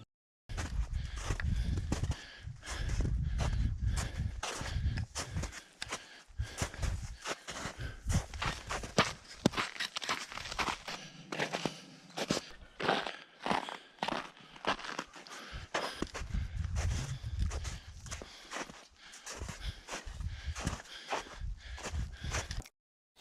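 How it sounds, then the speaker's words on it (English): Boots post-holing through deep snow on a winter hike, a long run of heavy, rhythmic crunching steps close by with deep thumps as each foot sinks, occasional pauses between strides. "we've been slogging through deep snow pretty much all day, just like post-holing it, stepping and sinking anywhere from a foot to 3 feet"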